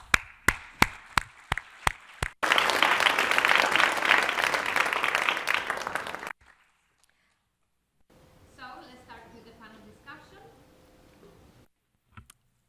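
An audience at a UN disability day event claps, starting with a few separate claps before a dense burst of applause of about four seconds, then a pause and quieter speech-like sounds.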